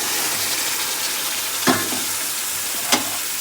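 Washed mutton head pieces go into a curry already frying in a pan, giving a continuous loud sizzle with two sharp splashy bursts as the pieces drop in, with no voices.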